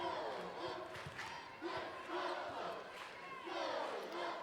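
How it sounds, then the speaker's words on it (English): A loud indoor crowd cheers and yells steadily at a women's college volleyball match, Grand Canyon against UTRGV, the roar swelling in waves with no break. "Havocs nice and loud. They're cheering. They're excited."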